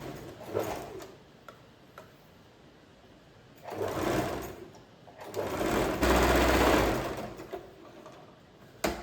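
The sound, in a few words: sewing machine stitching fabric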